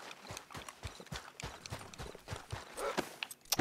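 Horse hooves clip-clopping at a steady walking rhythm in Red Dead Redemption 2, a close, moderately loud sequence of even beats with no talk over them.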